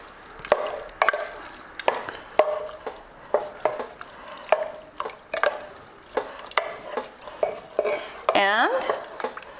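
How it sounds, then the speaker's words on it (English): A spoon stirs aloo matar curry in a metal pot with a steady run of scraping, knocking strokes roughly once a second, close and moderately loud, ending with a short ringing clang. "Give it a stir."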